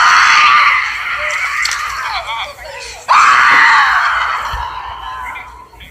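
Members of a grieving family scream and wail in anguish at a scene on Boulder Crest Road in DeKalb, with loud, sustained cries rising and breaking off, a sharp renewed scream midway, then trailing off.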